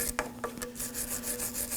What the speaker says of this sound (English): I'm going to prep my surface with a wire brush